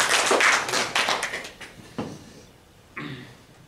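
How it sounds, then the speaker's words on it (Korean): A short burst of clapping from a small church congregation welcoming a pastor, loud at first and then thinning out into a few scattered claps. "박수로 환영하겠습니다."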